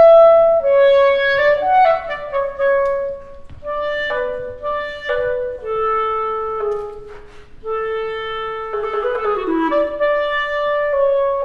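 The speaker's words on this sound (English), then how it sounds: "this is the soprano clarinet" A soprano clarinet plays a melodic passage alone with clear sustained notes and quick runs. Its close, bright tone moves through a varied phrase for several seconds without any talk.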